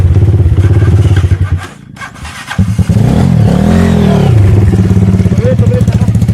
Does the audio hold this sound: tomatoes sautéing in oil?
no